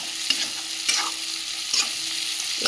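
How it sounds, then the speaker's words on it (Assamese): Onion, ginger and garlic fry in oil for a pork dish, sizzling steadily while a utensil scrapes and stirs the pan in a few sharp strokes, close and loud with no voices. "পিঁয়াজ, আদা নহৰু ভজা হৈ গ'ল।"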